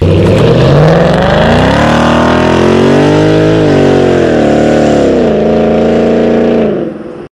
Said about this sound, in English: Borla exhaust. Sounds amazing, as you just saw.